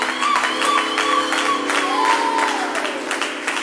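A church congregation applauds and cheers in a dense, sustained burst of clapping and whoops at a New Year's night service, steady and loud throughout, with a sung or shouted voice line running through it.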